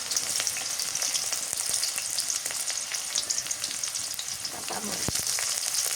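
Chopped onion fries in hot oil with panch phoron while chicken and banana flower are being cooked, giving a steady, close, dense sizzle that holds level for the whole stretch, with a few faint stirring clicks near the end.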